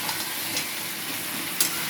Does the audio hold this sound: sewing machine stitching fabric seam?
no